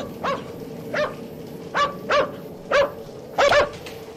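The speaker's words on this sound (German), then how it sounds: "Oh, Hund." Dog barking in an indie horror video game, five or six short sharp barks spaced across a few seconds over a steady low background hum, moderately loud and clear with no talk.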